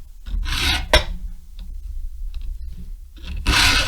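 A hand file rubs lightly across the cutters of a Stihl 070/090 chainsaw chain, a few short rasping strokes up close with quiet pauses between them.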